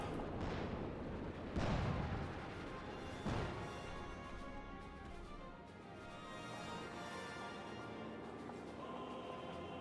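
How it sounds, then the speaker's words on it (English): Pack howitzer artillery fire in Company of Heroes 2: several heavy booming blasts, with big hits near 0.5, 1.7 and 3.3 seconds, over constant battle noise and game music. "getting ripped apart by all the pack howitzers"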